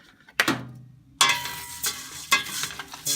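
Rice is tipped into hot oil for ham risotto and mixed, setting off a bright sizzle with repeated scraping stirs and utensil knocks against the pot. No one speaks.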